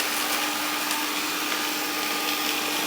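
A vacuum cleaner with two cleaning pads and a front brush that flicks debris inward runs across a floor, giving a loud, steady, unbroken whir close by with no speech.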